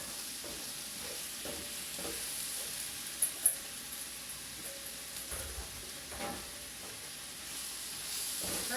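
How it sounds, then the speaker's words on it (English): Beef and rice cakes stir-fried with greens and noodles sizzle steadily in a hot pan, with a constant frying hiss and occasional scraping stirs and light clinks, close and alone with no talking. "I'm going to give this a stir."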